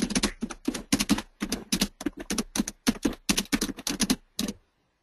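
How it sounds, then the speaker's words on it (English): Steady keyboard typing picked up during an online webinar call, a quick run of clicking keystrokes in bursts with brief pauses, close and clear, ending in silence. "I can hear typing."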